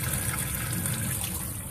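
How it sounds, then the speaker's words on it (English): Water runs in a full, steady flow through a Gemlux duckbill through-hole fitting on a boat, a close, continuous rushing gush with no break. "This way, full flow of water coming through."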